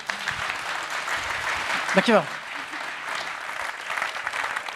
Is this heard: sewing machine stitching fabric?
no